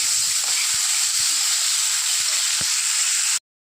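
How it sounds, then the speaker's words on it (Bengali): Shrimp fry lightly in hot oil with a steady, close sizzling hiss that carries on evenly, broken by a few soft clicks, before cutting off abruptly at the end. "বেশি কড়া করে ভাজলে চিংড়ি মাছটা খেতে শক্ত শক্ত লাগে তাই হালকা করে আমি ভেজে নেব"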